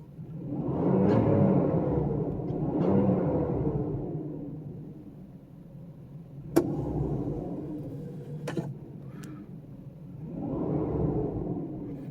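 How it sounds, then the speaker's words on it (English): A 1995 Mercedes S600 coupe V12 idles quietly after an exhaust repair. A soft, smooth low rumble rises and falls in slow waves, with a couple of sharp clicks partway through. "it sounds like a proper V12 now. Nice and quiet."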